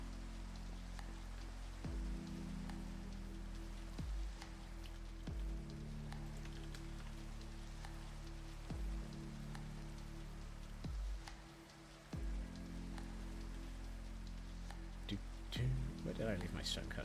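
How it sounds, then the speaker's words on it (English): Steady rain falls in the video game Minecraft, a continuous wash of pattering drops that persists throughout, with occasional soft thuds and clicks layered over it. "I want to get rid of this rain."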